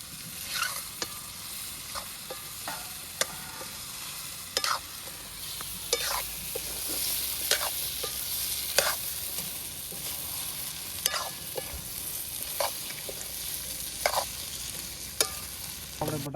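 Potatoes for batata bhungra frying in a pan give a steady sizzle and crackle. Sharp scraping stir strokes recur every second or so, close and clear, with no talk.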